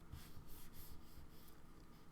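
A pen scratching steadily across paper while a math problem is worked out by hand, a quiet continuous rubbing with small strokes and no talking.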